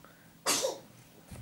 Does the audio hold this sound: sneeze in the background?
yes